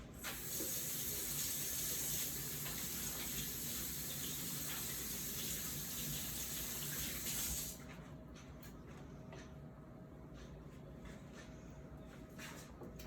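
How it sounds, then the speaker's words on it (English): Tap water runs steadily while hands are washed in a home kitchen between shaping meatballs, a loud broadband gush for about eight seconds before it cuts to a quieter, sparser trickle. "Wash my hands."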